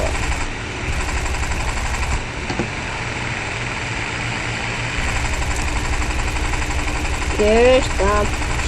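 Airplane engine drone in the War Thunder video game, a steady continuous mid-range roar with a voice briefly talking near the end.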